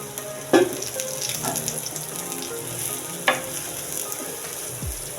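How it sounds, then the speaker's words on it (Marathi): Surmai fish frying in oil in a pan, a steady close sizzle with a few sharp crackles and spatters, no talking. "आपण थोडंसं अजून याच्यामध्ये तेल घालून घेऊया व्यवस्थित दोन्ही साईडने छान असे फ्राय करून घ्यायचे आपल्याला"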